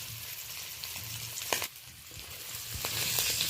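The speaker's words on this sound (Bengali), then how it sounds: "একেবারে হালকা করে ইলিশটা ভেজে নিতে হবে" Hilsa fish frying lightly in oil, a steady close sizzle with soft crackles and a brief stirring scrape midway, no voices.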